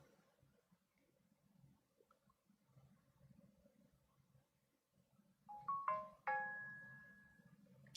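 A phone text message alert tone rings out as a short rising run of bright electronic notes ending on one held tone, sudden and clear after several seconds of faint, muffled background rumble.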